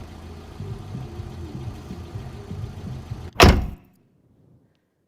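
A car door slams shut loudly and close by while a car engine idles steadily underneath, after which the scene drops to near silence.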